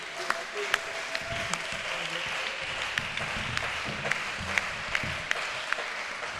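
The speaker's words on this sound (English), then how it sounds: "Can we clap for them?" Steady applause from a quiz competition audience, a continuous wash of many hands with sharper individual claps standing out, moderately loud and sustained throughout.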